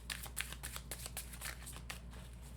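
Tarot cards being shuffled give a soft, continuous riffling patter of quick papery flicks, faint and close with no voices.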